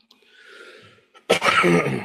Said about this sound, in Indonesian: Ini sambil batuk-batuk ini.